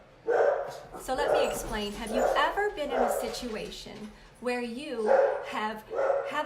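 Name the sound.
dog barking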